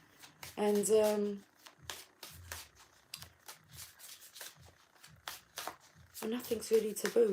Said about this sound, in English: I'm shuffling the Tarot Sexual Magic